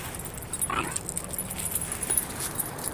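Tyson the dog lets out faint, high, gremlin-like whimpers, with a brief squeaky whine near the start. The whimpers sit over a quiet indoor hiss and no one speaks.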